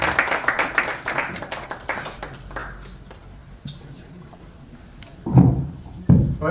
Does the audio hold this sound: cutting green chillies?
no